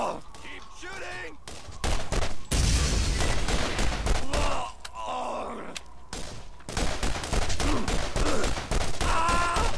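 Rapid pistol gunfire from the Borderlands GOTY Enhanced video game, loud bursts of shots crackling through most of the stretch, mixed with in-game grunts and voices.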